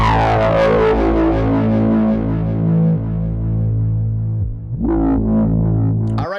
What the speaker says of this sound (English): That's the Mars Tube synthesizer, Space Solo.